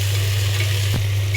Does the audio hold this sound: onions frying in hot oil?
yes